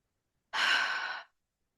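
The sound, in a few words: deep breath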